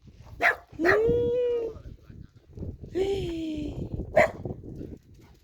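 A dog gives a few short barks and drawn-out whining yelps, close by, just let out of its cage, with people talking and calling over it.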